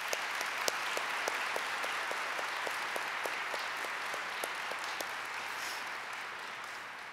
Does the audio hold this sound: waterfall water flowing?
no